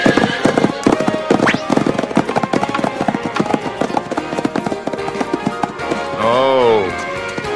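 Hooves of a horse clip-clop in a rapid, uneven rhythm, loud and close, and then the horse gives a whinny near the end.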